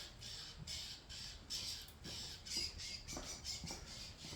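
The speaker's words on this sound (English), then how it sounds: "I think birds are noisy." Several birds call repeatedly in quick harsh squawks, fairly faint and distant, forming an irregular chattering rhythm over a quiet background.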